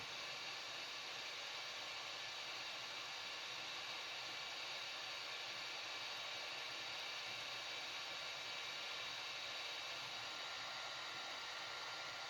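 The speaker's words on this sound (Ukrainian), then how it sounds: "Ну, включаємо фен." Hot air gun of an 8898 soldering station blowing at a low setting of about 100 degrees, a steady broadband airy hiss that runs unchanged throughout, fairly quiet, with no talk.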